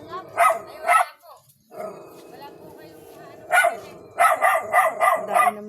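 Several dogs at a house bark in sharp loud bursts, first a pair of barks, then after a pause a rapid run of five or six, close by, with someone speaking in between.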